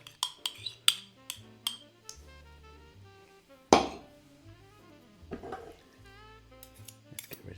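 A knife mixing yogurt into cheese scone dough in a bowl, giving a series of sharp clinks and taps against the bowl with scraping in between, close and fairly quiet.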